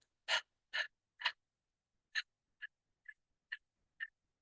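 Rapid yogic breath of fire: sharp, breathy exhalations, three quick bursts, then five shorter, fainter puffs after a pause, close and alone in a quiet room.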